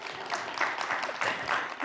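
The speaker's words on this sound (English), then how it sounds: "You can applaud if you wish" An audience at a conference session breaks into brief applause, a short burst of many hands clapping with a slightly uneven rhythm.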